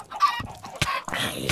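Chickens cluck in a Minecraft world, several overlapping bursts of clucking and squawking close by, with a brief sharp call near the middle and a dense cluster toward the end.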